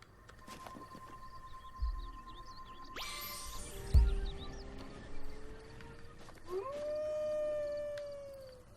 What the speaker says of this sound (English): he can hear you howl